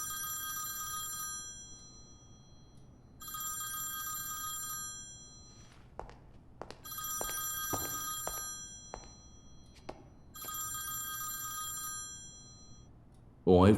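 Telephone bell rings in four repeated bursts, each about a second and a half long, separated by pauses, with faint room noise and a few soft knocks in between.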